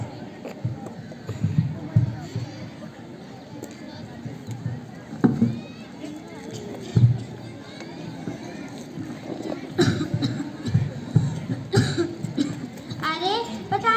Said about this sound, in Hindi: बस सुबह से यही खांसी ही जा रहे हैं।